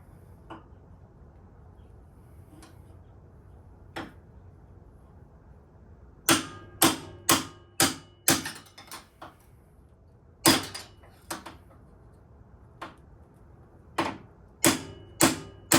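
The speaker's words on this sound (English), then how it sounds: "you just use a punch from the top and knock it out" A metal punch strikes a motorcycle steering neck bearing race, a few faint early taps and then a run of loud, sharp, ringing hammer blows in irregular rhythm, close by.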